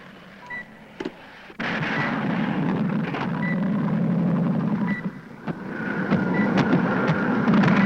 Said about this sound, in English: That sounds like a plane